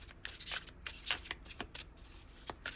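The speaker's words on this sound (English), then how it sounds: "I think I just got the message as I was shuffling." A deck of tarot cards is shuffled by hand, giving quick, close, repeated riffling bursts in an irregular rhythm.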